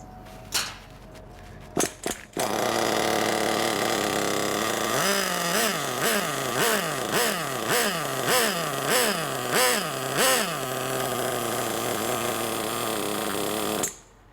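A small nitro engine on an Iron Track Firestone RC buggy, running rich, starts with a few sharp pops, then runs loud and steady at a high-pitched whine, revving up and down repeatedly before cutting off.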